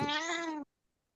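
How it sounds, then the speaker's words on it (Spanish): A single close, clear cat meow, drawn out for about half a second, then cuts off into near silence. "Un gatito. Me gustan los gatos."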